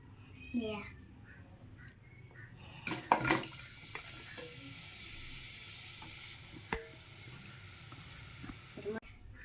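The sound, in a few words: onions frying with cloves and cardamom in pan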